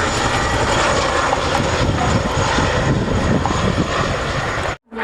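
Chinook helicopter flying a roll display at the Cosford airshow: a loud, broad roar of rotors and engines fills the air continuously, then cuts out abruptly near the end.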